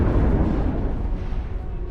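Explosions and heavy gunfire in the video game Star Trek Online form a loud, continuous low rumble of distant booms and blasts with no distinct individual shots.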